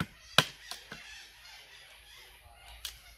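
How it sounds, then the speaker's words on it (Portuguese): An axe strikes babassu coconuts, one sharp loud crack followed by a few fainter knocks, with geese or chickens honking and clucking faintly nearby on a rural homestead. "E agora quebrando coco."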